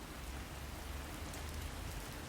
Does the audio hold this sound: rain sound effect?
yes